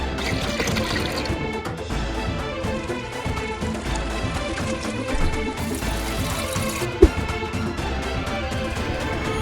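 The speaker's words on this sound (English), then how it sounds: "poured the first gallon of water into Ninjago City" Water from a gallon jug pours into a LEGO Ninjago City build, a continuous splashing rush partly under background music, ending with a sharp knock.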